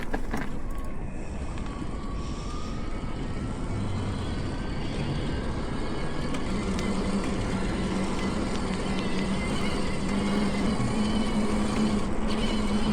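A fat tire e-bike with a Cyc X1 Pro Gen4 mid-drive motor rides along, heard as a steady broadband rush of wind and tire roar with a faint motor whine underneath, continuous and close throughout.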